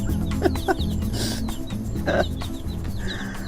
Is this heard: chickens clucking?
yes